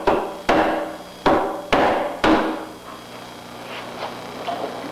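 Hammer driving nails into a wooden jig table, five sharp close blows in quick sequence with ringing decay, then lighter faint taps after a pause.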